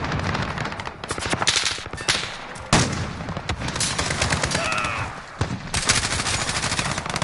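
Dense automatic gunfire from a first-person shooter game, with rapid machine-gun bursts and single shots firing almost nonstop, loud and close, with brief pauses between volleys.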